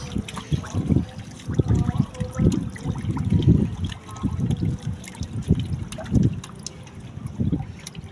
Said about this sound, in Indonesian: Airnya sampai muncrat-muncratan itu coba.